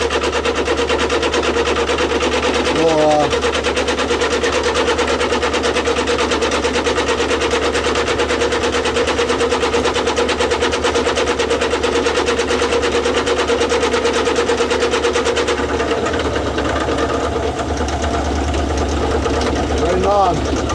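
A Kohala Iron Works milling machine hogs out metal with a half-inch-shank end mill, making a continuous loud, buzzing, chattering drone that stays steady for the whole stretch.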